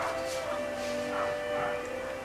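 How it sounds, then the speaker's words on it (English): A dog barks repeatedly in the Chronicles of Narnia video game, soft yips and bow-wows sitting behind a steady tonal music bed and ambient hum. "a dog's constantly barking and it ain't Morley"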